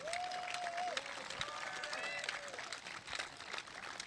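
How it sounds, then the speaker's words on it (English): A crowd at an Albertans Day gathering applauds and cheers for a speaker, a dense, distant wash of clapping mixed with whistles and crowd noise throughout. "let's give Cory Morgan a great round of applause"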